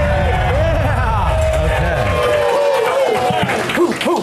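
A live audience applauds and cheers at a Gettysburg guide event held at the Farnsworth, sustained crowd noise with someone talking over the clapping.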